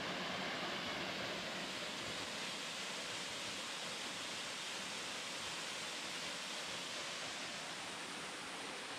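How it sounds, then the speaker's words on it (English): Waterfalls along the Hatfield & McCoy off-road trails pour in a steady, dense broadband rush, constant and fairly loud for the whole stretch with no voices. "I think we actually did come to the waterfalls they were talking about on the map"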